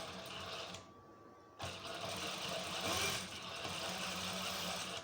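A tailoring sewing machine runs close by at a steady mid pitch as it stitches fabric for a shirt body, pausing for a moment near the start before whirring on continuously.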